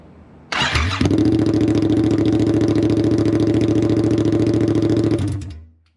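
A Yamaha MT-07 motorcycle fitted with a Yoshimura R77 exhaust cranks and fires up, then settles into a loud, steady, rumbling idle for several seconds before shutting off, close by with no talking.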